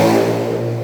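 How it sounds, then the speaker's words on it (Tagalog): A vehicle on the road outside a house beside the street, a loud, close engine drone with revving that eases off slightly as it passes. "lahat talaga ng dumadaan ay maririnig namin talaga na broom, broom, broom, broom"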